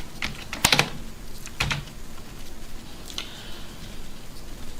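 Someone types text on a computer keyboard in a quiet room, with short irregular bursts of clicking keystrokes, close and fairly faint, and no talking.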